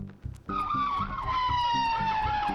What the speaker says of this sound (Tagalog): Dumating ang ambulansya